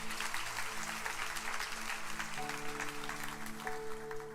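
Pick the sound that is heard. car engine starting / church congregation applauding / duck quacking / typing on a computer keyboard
church congregation applauding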